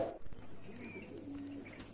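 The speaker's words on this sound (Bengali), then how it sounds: "আপনাদের দেখানো যাক পায়রাগুলো" Madras pigeons coo softly at a breeder's home loft, with low repeated calls and a few higher chirps over steady background hiss, no talk.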